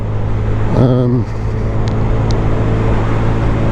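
2022 Honda Grom small-engine motorcycle at speed, a steady low drone with wind rush, and a brief rising-then-dropping engine whine early on; a voice talks over it.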